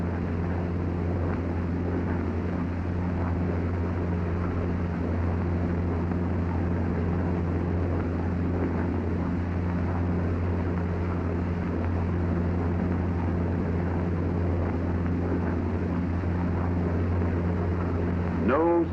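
Engine of a P-47 fighter plane in flight in 1943, a steady loud droning roar that holds unbroken throughout with someone narrating over it.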